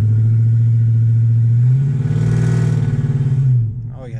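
A truck engine in four-wheel drive revs up steadily, its pitch rising to a strong peak and then dropping away, heard close and loud without talk.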